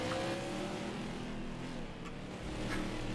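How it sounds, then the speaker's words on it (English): Race cars rumble along pit road in the NASCAR 21: Ignition video game, a dense, steady engine drone holding at close range for the whole stretch with no talk over it. "We got more cars hitting pit road."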